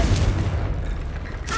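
The Confringo fire spell blasts in Hogwarts Legacy as a deep, rumbling boom that fills the low end, then fades into a hissing tail before a second soft burst at the end. There is no speech.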